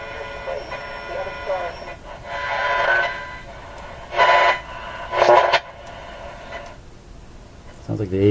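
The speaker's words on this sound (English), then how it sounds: "as terrible as that sound, that's perfectly normal for a radio in my shop." A Westinghouse 1398 AM/SW/FM tube radio gives noisy reception: a steady hiss and whine, with loud bursts of static swelling in and out, faint tones threading through, and a sharp crackle at the end.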